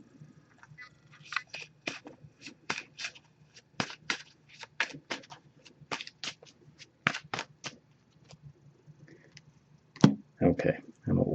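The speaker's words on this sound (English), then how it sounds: "I'm just going to give this a few shuffles." An oracle card deck is shuffled by hand in a run of crisp, riffling snaps and slaps, close and fairly quiet, ending with a few louder rustling bursts.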